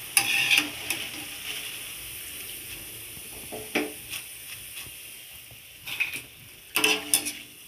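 Cabbage pakoda fries in hot oil with a soft, continuous bubbling sizzle, broken by occasional louder clinks and spatters of a utensil against the pan.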